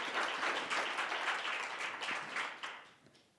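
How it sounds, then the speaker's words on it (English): Audience clapping after a poem at a literary reading, a brief burst of many hands that starts moderately and fades away within a few seconds. "You don't have to clap."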